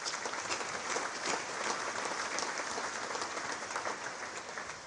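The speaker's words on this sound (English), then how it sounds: "So let's make an applause to the FIFA administration." Audience at the 75th FIFA Congress applauding, a steady, even wash of many hands clapping at some distance, fairly quiet and sustained with no talk over it.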